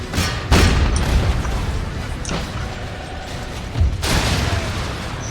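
Mortar fire in Empire: Total War, a few distinct booming launches spaced over several seconds, each a sharp thump with a fading tail over a constant battlefield murmur.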